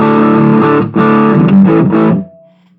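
Electric guitar played through a Sonicake effects unit with the overdrive turned fully up and the tone knob centered, giving loud, saturated chords that ring out close and alone before fading.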